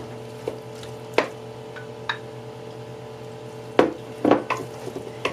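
Canned stewed tomatoes are spooned into a crock pot in a kitchen, giving a few sharp clinks of utensil on the pot and soft wet squishes over a steady low appliance hum, with no talking.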